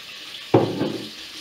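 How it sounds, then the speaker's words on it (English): Pasta dropped into a hot pan with a little oil lets out a sudden close sizzle that spikes loudly, then settles into a softer crackling hiss as it is stirred round. "I'm going to add the pasta into the pan. You might hear a slight sizzling."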